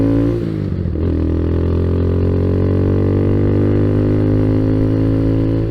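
A Kawasaki Z125 motorcycle engine after its computer recall update revs up briefly, then settles into a steady, loud, close idle with a rich low drone, no stalling, and no talk.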